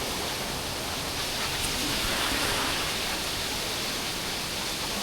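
Sarika Waterfall in Nakhon Nayok, Thailand, on a misty, rainy day gives a constant, even rush of falling water that stays steady and close for the full five seconds without any talk.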